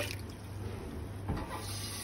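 Water runs into a pot of lentils for haleem, a soft, steady pouring hiss at low volume, with a brief splash about midway.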